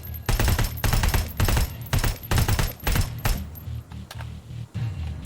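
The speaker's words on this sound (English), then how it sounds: "I'm just gonna waste ammo on these guys because I've got it" Bursts of automatic gunfire aimed at Terminators in the video game Terminator Resistance: rapid, loud volleys in a repeated rhythm of roughly half-second bursts with short gaps, punchy and close, with no talk.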